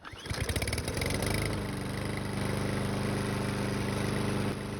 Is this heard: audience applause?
no